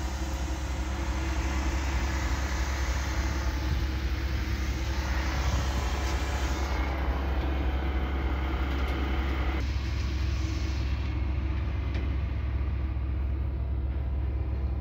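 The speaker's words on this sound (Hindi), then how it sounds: "6 सिलेंडर इंजन है जनाब।" A Perkins 6-cylinder twin-turbo diesel generator rated 500 kVA runs at a steady, loud, continuous drone, heard up close with a deep low rumble and broad mechanical roar throughout.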